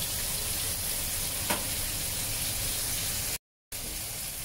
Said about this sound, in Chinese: 等佢哋咧嗰啲豆腐咧系煎得均匀一啲